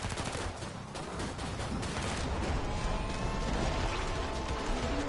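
Dense, relentless gunfire with rapid overlapping shots and mechanical clatter fills a co-op zombie shooter match in Killing Floor 2 on Hard difficulty. It is loud and continuous from start to finish, with no talk over it.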